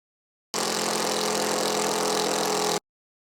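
A cordless drill on a fresh battery bores a hole with a flat bit during electrical work on a single-story extension: a loud, steady whirring burst of about two seconds that starts and stops abruptly.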